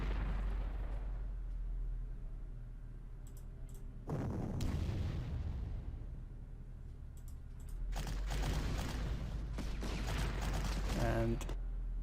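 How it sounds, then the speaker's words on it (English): Bombing explosions in the World War II strategy game Panzer Corps on the Maginot Line: a few heavy booming blasts with long rumbling decays, the loudest bursts near the middle and end, with a voice talking at times. "indeed the AI will bomb that"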